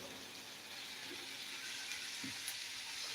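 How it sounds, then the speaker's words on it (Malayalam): Onions fry in a pan for egg curry, a soft, steady sizzling hiss at low level with a few faint clinks, heard alone. "ഉള്ളി ഒന്ന് മൂപ്പിച്ചെടുക്കണം"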